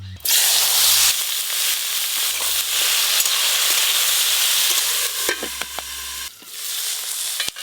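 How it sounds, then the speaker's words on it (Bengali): Salted, turmeric-coated eggplant slices frying in mustard oil, a loud, steady close-up sizzle with crackling pops throughout. "লবণ হলুদ মাখানো বেগুনগুলো খুব ভালো করে ভেজে নেব।"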